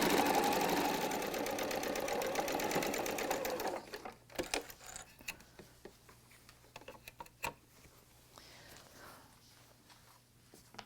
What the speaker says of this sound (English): we can just keep sewing, can't we? No reason to cut our thread. That's called chain stitching.